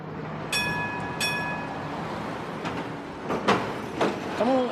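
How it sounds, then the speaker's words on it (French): A Hong Kong tram, a historic colonial-era double-decker in a busy city street, gives bright ringing bell-like tones early on, followed by rumbling passes and clanks of wheels over rails, with a rising squeal near the end. "comme le son du tramway, vestige de l'histoire coloniale de la ville"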